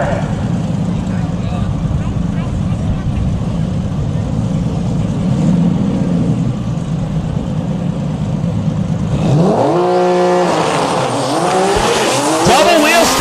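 A drag racing car launches solo down the left side of the track, a loud sustained engine roar with a sharp rising rev and tire scream near the end, and a commentator talks over it.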